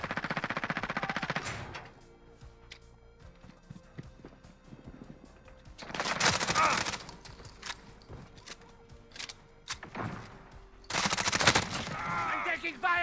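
Bursts of automatic gunfire from the MP5 in Call of Duty Modern Warfare multiplayer, three loud rattling volleys near the start, middle and end, separated by quieter battle ambience and radio-style game callouts.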